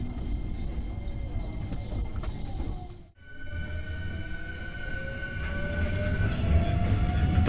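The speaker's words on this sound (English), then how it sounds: "The local train bound for Tengachaya departed Awaji station and began running on the Hankyu Senri line." Hankyu Senri line local train pulling away from Awaji station, a steady rolling rumble with rising motor whine; a brief drop around three seconds, then the hum climbs again as the train gathers speed, no voices.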